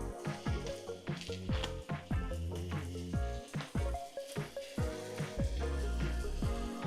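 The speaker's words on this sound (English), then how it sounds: "now we're gonna add our ground beef" Ground beef sizzles steadily in a hot pan for a crunch wrap filling, a constant frying crackle running beneath loud, rhythmic background music throughout.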